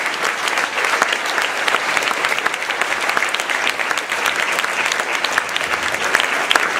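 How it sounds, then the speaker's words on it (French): An audience in a theatre applauds the technical crew, lighting and stage management, after a show: dense, steady clapping that fills the hall at a loud, even level without letting up. "On peut les applaudir."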